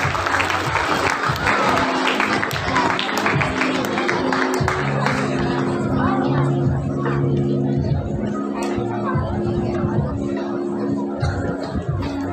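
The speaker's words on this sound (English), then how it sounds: "Round of applause." An audience at a school festival applauds in a sustained, fairly loud wave of clapping from many hands, with crowd murmur and a voice briefly audible underneath before the clapping thins toward the end.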